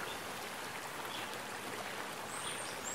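A river stream flows steadily over rocks near the Saut d'Acomat waterfall at Pointe-Noire, a continuous broadband rush of water heard up close with no voices, holding an even level throughout.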